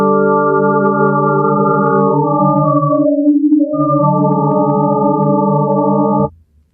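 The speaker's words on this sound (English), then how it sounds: "we have unique ones like swarm sine, which are multiple sine waves" Several pure sine tones from an Ableton Live 12 swarm sine synthesizer sound together in a shimmering cluster, shifting pitches slightly and briefly thinning to one tone before swelling back and stopping.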